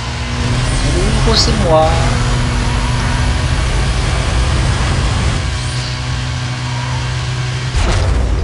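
Racing car engine from the video game Need for Speed Most Wanted drones steadily and loudly through the whole stretch, with brief swooping revs, while someone speaks over it.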